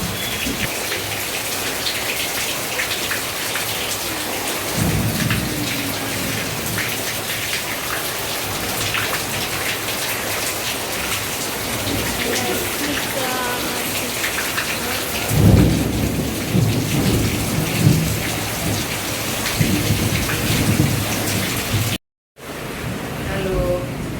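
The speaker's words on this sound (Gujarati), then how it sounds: "તો હું તમને ત્યારમાં વરસાદ બતાવી દઉં." A heavy downpour hammers steadily close by, with rolling thunder rumbling through a monsoon storm. A brief burst of low rumble and faint voices comes partway through.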